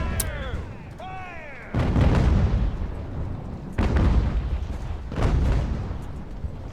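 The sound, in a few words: artillery fire in video game Ultimate Admiral: Age of Sail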